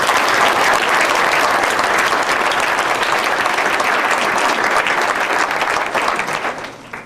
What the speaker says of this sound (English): So if you could help me give an applause to our administration.